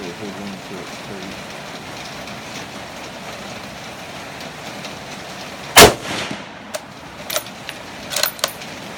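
Remington 700 ADL hunting rifle bolt being cycled, with a sharp metallic clack of the action followed by a few lighter clicks and rattles as the empty case ejects, close up after a stretch of quiet handling noise.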